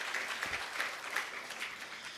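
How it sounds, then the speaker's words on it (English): Faint, distant applause from delegates at a conference closing ceremony, a thin patter of clapping that is quiet throughout. "Another round of applause for the SADC Secretariat."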